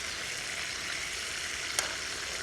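Food sizzles steadily in a frying pan over an outdoor campfire on an overnight fishing trip, a continuous close crackle with one brief sharper pop.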